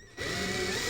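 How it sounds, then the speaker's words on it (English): A screwdriver drives a screw into a wooden wine gift box, a steady whirring motor sound starting after a brief pause and running continuously, close and fairly loud. "you drive your screws in with a screwdriver"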